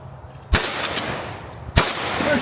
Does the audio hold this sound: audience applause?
no